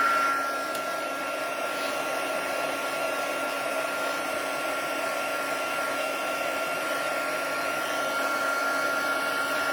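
A heat tool blows steadily while heating embossing on a vellum card, a loud, even whirring hum that holds without a break from start to finish.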